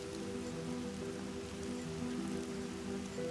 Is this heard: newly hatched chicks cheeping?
no